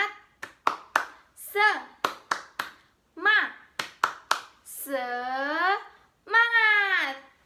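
A primary school class performs a rhythmic clap chant: crisp groups of sharp hand claps alternating with children's voices calling out in unison, near and lively in a quiet classroom.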